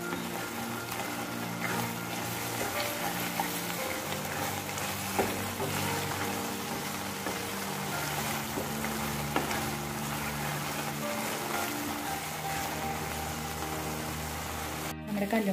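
Mussels (kallumakkaya) coated in masala frying in a pan over a medium flame, giving a steady, continuous close sizzle that holds at an even level throughout.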